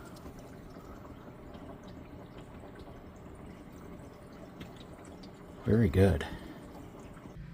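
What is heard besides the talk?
water running into PVC drain pipe under RV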